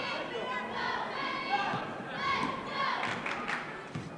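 A gym crowd at a boys high school basketball game cheers and shouts after a basket, loud mixed voices rising and falling with thumps of play on the court.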